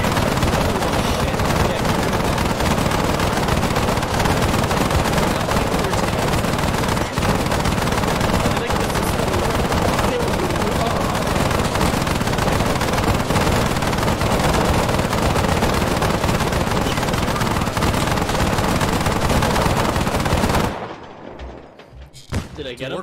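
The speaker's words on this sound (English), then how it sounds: "Suppressing fire!" Sustained suppressing gunfire in the military shooter Arma III, dense continuous automatic bursts and shots filling about twenty seconds at high loudness, then cutting off abruptly into near silence with a few faint trailing sounds.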